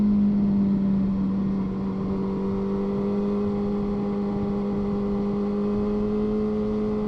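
A touring motorcycle engine running steadily through a long bend, a loud, close, even drone with a strong low tone that holds and eases slightly, heard over wind rush.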